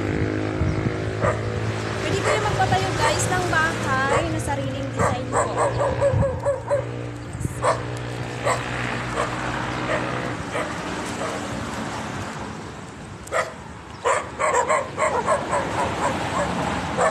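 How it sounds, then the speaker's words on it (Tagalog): Several dogs bark, yip and whimper outdoors near a lot by a national highway, in repeated close bursts with a car passing and a voice talking at times. "May mga aso. Nakatakot pumasok."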